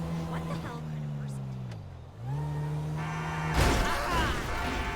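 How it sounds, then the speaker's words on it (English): A blue car in GTA Online takes damage as it is wrecked, with engine drone giving way to a loud burst of crunching, rattling impact noise near the end, and talk running over it. "Whoa, her blue car's getting tore up."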